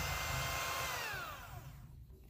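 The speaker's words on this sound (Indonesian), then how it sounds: "Di sini aku pakainya hand mixer ya, jadi teman-teman sesuaikan aja dengan mixer yang teman-teman pakai." A hand mixer whirs steadily while beating egg yolks for a layered cake batter, its high motor whine close and fairly quiet, then sliding down in pitch as it slows near the end.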